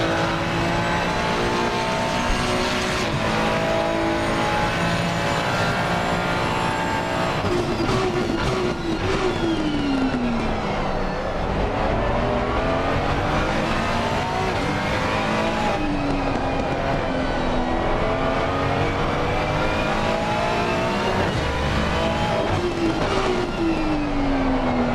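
Onboard a race car on a qualifying lap at the Nürburgring, the engine roars loud and constant, climbing in pitch through the gears with repeated downshifts and revs.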